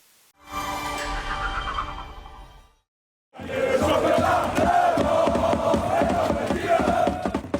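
A football stadium crowd roars loudly, with a burst of chanting, a sudden silence, then a dense wall of cheering and rhythmic shouting that continues to the end.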